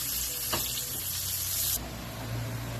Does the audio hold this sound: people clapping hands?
no